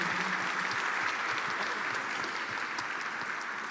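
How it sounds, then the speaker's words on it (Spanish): Strong applause from an audience at a panel discussion on national polarization, dense steady clapping filling the room at a constant level throughout, with no voices breaking through. "Un fuerte aplauso a Josefa también"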